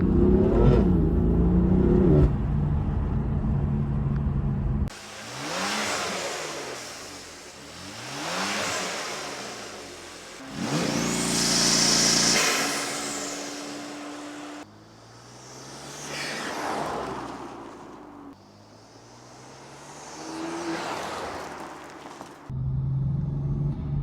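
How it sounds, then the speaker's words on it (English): A car fitted with a cheap air intake mod accelerates in several pulls, heard from inside with the window closed; the engine note rises and falls in repeated sweeps under a soft, breathy intake rush. "it does make a light sucking sound of bringing the air in"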